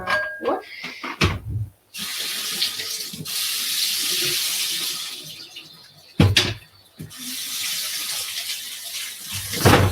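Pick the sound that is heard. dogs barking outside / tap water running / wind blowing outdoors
tap water running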